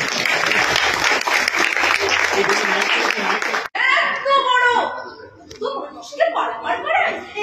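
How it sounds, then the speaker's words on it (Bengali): Audience applause at a Bengali theatre festival performance, a loud dense burst of clapping for the first half that cuts off abruptly, followed by voices talking and laughing. "আজকে আমার প্রিয় কবির জন্মদিন, একটা হাততালি দেবেন সবাই।"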